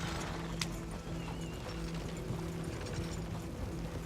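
Horse hooves clip-clop in a steady galloping rhythm in Red Dead Redemption 2, over a constant low rumble of movement and background noise.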